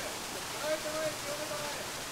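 A waterfall at a Japanese waterfall training site, heard as a steady, even rush of falling water filling the scene without a break.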